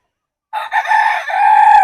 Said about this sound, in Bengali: এখানে আমরা মোরগ রেখেছি চারটা আর সবই মুরগি